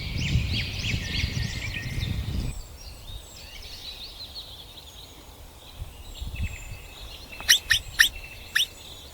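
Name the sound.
flocks of birds calling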